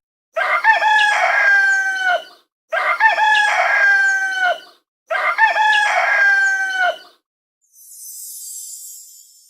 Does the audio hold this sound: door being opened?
no